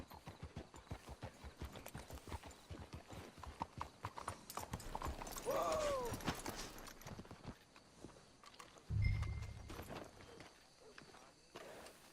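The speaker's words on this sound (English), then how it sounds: "Get your horses up ahead." Rhythmic hooves of horses in Red Dead Redemption 2 clip-clop steadily at a trot or gallop, with a horse whinnying midway and a low thud later.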